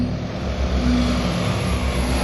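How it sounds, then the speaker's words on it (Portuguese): Vought V-173 'flying pancake' propeller aircraft in flight, a steady, loud droning engine and propeller hum with a constant tone and no variation over a couple of seconds. "Enquanto esse curioso avião voava para uma demonstração na estação naval de Floyd Bennett"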